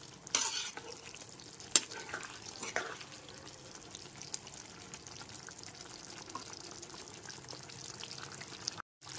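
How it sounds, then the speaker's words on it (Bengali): Garam masala is stirred into a sizzling soya chunk and potato curry in a pan, with scraping spoon strokes over a steady frying hiss and a few sharper clinks near the start. "গরম মশলাটা ভালো করে মিশিয়ে নেব।"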